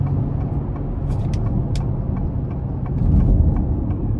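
A 2022 Acura MDX SH-AWD driven in sport mode, heard from inside the cabin as a steady low engine and road drone that swells slightly toward the end, with no talking.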